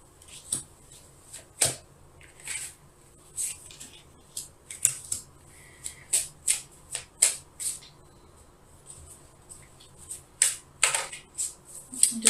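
Tarot cards being shuffled by hand, heard up close as a quick run of crisp riffles and snaps in an irregular rhythm, with no talking.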